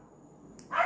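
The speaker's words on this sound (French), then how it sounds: "Je sais pas pourquoi ils aboient comme ça." Dogs bark close by, one short sharp bark bursting out near the end after a near-quiet stretch.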